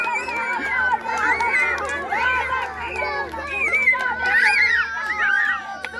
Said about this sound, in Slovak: vy ste sa krásne zahrali na kozičku a na gazdu